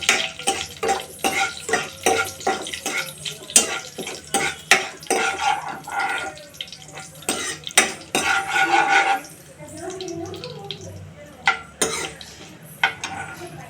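Ingredients for Konkani-style dal are stirred and fried in a pan, with loud close clinks and scrapes of a spoon against metal, bursts of rhythmic tapping and a faint sizzle between them.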